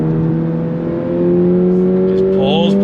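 2023 Toyota GR86 engine revving to redline under acceleration, a loud steady climbing drone with strong harmonics that rises in pitch toward the end, heard from inside the car.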